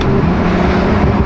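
A Porsche with all-wheel drive and a PDK automatic transmission accelerates hard, giving a loud, dense engine roar that holds steady and close for a brief moment without talk.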